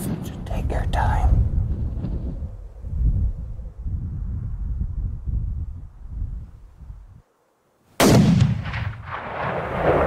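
Gunshots ring out outdoors: a quick cluster of sharp cracks at the start, then a single loud blast later. Low murmuring voices and wind fill the gaps between shots.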